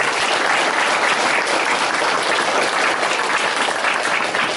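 Loud, dense audience applause for five panel speakers at a forum on the defense industry at a chamber of commerce, continuous clapping from a full hall with no speech over it.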